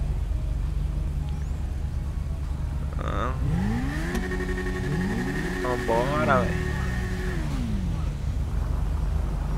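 Motorcycle engine in the video game GTA V, a Yamaha XJ6 in white and gold, revving up and down in a sweep of rising and falling tones mid-clip over a steady idle hum, with a voice briefly talking.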